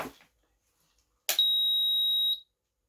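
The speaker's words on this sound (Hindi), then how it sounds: "तो आपने सुना, इसके अंदर बीप की आवाज़ आ गई, यानी ये काम कर गया" An electronic buzzer wired to a speaker and powered from a supply gives one steady high-pitched beep lasting about a second, loud and close, after a brief click.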